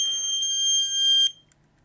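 A loud, steady high-pitched electronic alarm tone sounds for over a second, then cuts off, leaving a faint short chirp and quiet room noise.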